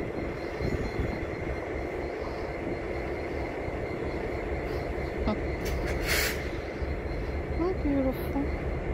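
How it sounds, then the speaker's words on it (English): A train rumbles past with a steady low roar and clatter, some faint squeals and outdoor background noise near the end. "All right, so we got trains coming out"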